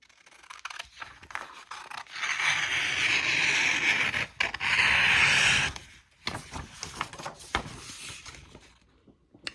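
Scissors cutting through polyester sublimation t-shirt fabric, starting with a few short snips and then moving into two long, steady rasping cuts of about a second and a half each, followed by lighter scattered snips and rustling, close up with no talking.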